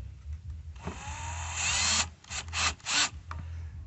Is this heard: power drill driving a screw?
yes